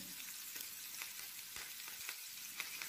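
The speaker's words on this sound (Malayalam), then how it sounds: "മസാല ഇട്ട് വെച്ച മീൻ ഇതിന് മുകളിലായിട്ട് വെച്ച് കൊടുക്കാം. ലോ ഫ്ലെയിമിലിട്ട് ഇതൊന്ന് കുക്ക് ചെയ്തെടുക്കണം." Masala-coated fish frying on a low flame with curry leaves, a soft, steady oil sizzle with small pops and crackles scattered throughout, faint and close with no talking.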